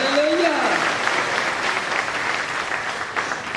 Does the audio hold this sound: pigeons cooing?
no